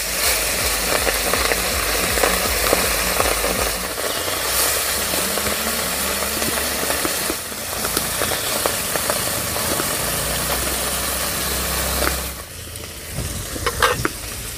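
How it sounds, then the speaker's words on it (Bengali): Small puti river fish fry in hot mustard oil in a wok, a loud steady sizzle with bursts of spattering and occasional stirring scrapes, no talking. "মাছগুলো কড়াইতে দিয়ে দেবো।"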